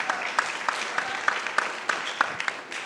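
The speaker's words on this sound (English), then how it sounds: "Yes, round of applause." An event audience applauds at a 2023 ATLAS convening, a dense, moderately loud wash of clapping with a few sharper individual claps standing out, lasting a few seconds.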